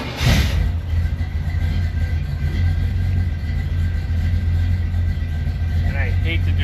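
A 1976 Corvette engine runs at a steady idle, a loud, constant low rumble from nearby that stays even throughout, with a short burst of noise at the start.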